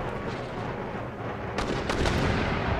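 Mortar fire in the Empire: Total War battle, a steady rumbling barrage of distant booms and artillery blasts that swells louder in the second half, with no talking.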